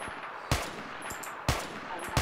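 Gunfire in a Minecraft game of Mining Dead: three sharp, evenly spaced shots about a second apart, loud and close over a steady hiss of game background noise.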